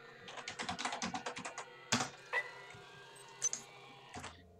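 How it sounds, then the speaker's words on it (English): Rapid keyboard typing in System Shock 2, a quick run of even key clicks followed by a few louder isolated keystrokes and short clacks, close and clear with no talking. "Really don't want to have to be typing this out every single time."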